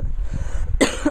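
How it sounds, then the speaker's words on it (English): A single sharp, close cough from a person with a cold, bursting out after a moment of low background noise. "I've got a cold too, so if I cough, sorry in advance."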